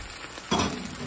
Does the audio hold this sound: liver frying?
yes